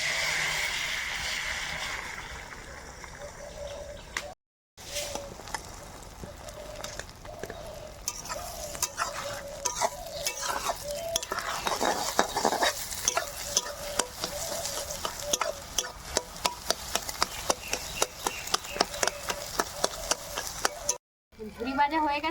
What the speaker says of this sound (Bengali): এবার গোলানো ডিমটা দিয়ে দেব।